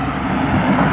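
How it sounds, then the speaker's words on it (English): A loud work truck with an aftermarket exhaust passes close by, giving a steady, heavy engine and exhaust rumble that fills the whole moment. "That truck is loud"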